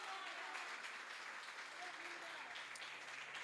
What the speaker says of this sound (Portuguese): Então aplauda Jesus com alegria.